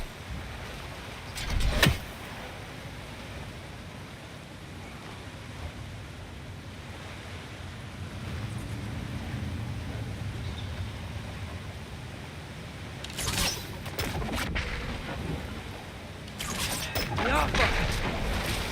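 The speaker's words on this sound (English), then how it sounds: "Sounds like you got the water moving along" Water rushing and flowing steadily through a channel after being unblocked in God of War Ragnarök, a continuous broadband wash with brief louder splashy bursts, under occasional voices.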